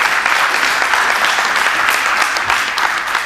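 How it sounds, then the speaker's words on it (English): Audience at a talk breaks into applause: a loud, even wash of many hands clapping close by, sustained without a break and with little talk. "someone wants to clap there"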